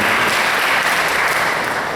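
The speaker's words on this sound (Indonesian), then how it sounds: "beri tepuk tangan kepada Tuhan." Church congregation at a Pentecostal Sunday service clapping in praise, a continuous wash of many hands applauding at once, loud and steady with no speech over it.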